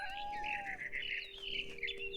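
A mama bird chirps and tweets in a quick series of bright, close calls in the video game What Remains of Edith Finch, heard alone over a soft background.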